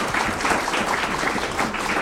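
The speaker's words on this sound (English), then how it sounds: "let's give these fellows a big round of applause" A forum audience gives a round of applause at a trades-themed presidents' event. The clapping is brief and steady, with a dense, full texture throughout.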